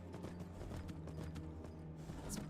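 Horse hooves clip-clop steadily in the video game Skyrim, a continuous run of close, even footfalls over a low droning background, with a brief whinny-like cry near the end.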